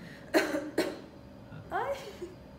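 A child gives two short coughs during a medical exam, close and fairly loud, followed a moment later by a softer, voiced throat sound.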